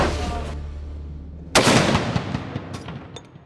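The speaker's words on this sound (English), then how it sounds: "rooks are awakened at 5:30 to the sound of cannon fire." A single loud cannon blast booms at a military training camp's early-morning wake-up, following a quieter rumble and decaying into a long echoing tail with faint later pops.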